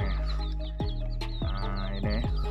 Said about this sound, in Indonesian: si ayam hutan lagi digodain sama ayam-ayam jago, ayam-ayam kampung dan anak-anaknya ini